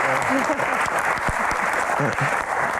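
A studio audience at a televised talk show applauds, loud continuous clapping with voices and shouts cutting through the wash, close and sustained for the whole stretch.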